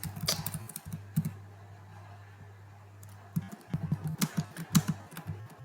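Typing code on a computer keyboard: scattered, quiet key clicks, a few at first and then a quicker cluster of taps near the end, over a steady low hum.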